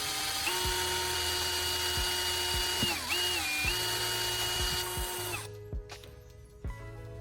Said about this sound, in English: I used a small drill bit and drilled another hole in the side of the bottle cap.